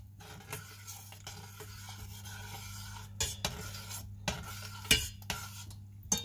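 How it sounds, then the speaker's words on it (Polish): A utensil stirs bread sauce thickened with crumbled bread in a pot, soft scraping strokes with a few sharper clinks against the pan over a steady low hum. "Przy tym wszystko mieszając."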